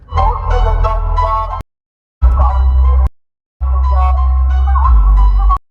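A song blasts through a Spider subwoofer in a modified Baleno, heavy booming bass under the music, loud and close, played in three bursts separated by short silences.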